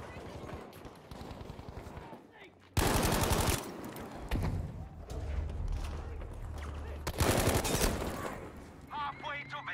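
Bursts of light machine gun fire in the Battlefield 5 video game, a close-to-mid-range hybrid LMG, crackling in loud rapid volleys amid continuous battle noise and distant shots, with a louder burst near the start and another later on.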